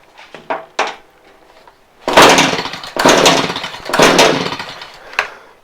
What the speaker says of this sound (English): When I'm doing this, I'm adjusting the low.